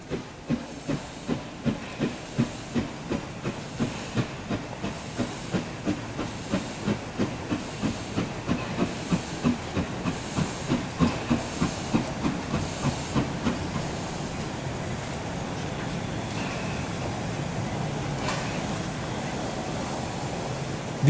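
Narrow-gauge steam locomotive 99323 of the Molli line arrives at Heiligendamm, sending out a steady train of rhythmic exhaust chuffs that slow and then fade into a sustained steam hiss, with rail rumble underneath and no talk.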